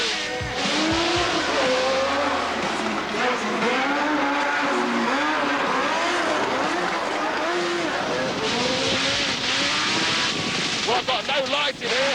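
A Legend race car is driven hard around an indoor arena, its engine revving up and down in constant loud sweeps with tyre squeal, while a voice talks under the racing noise.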